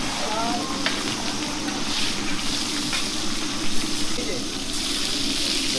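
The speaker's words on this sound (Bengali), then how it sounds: "এটা কি ফায়ার ইলিশ ভাজা গাইস ফায়ার ইলিশ ভাজা দেখলাম" Hilsa fish frying over an open flame at a riverside eatery in Mawa, a steady close sizzle and bubbling hiss with brief splashy surges, while people talk throughout.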